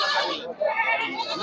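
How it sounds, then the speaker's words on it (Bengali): Black Bengal goats tied up at a local goat market bleat in one short, wavering call, with people's voices nearby. "দেখেন অনেক সুন্দর সুন্দর এই ছাগলগুলো।"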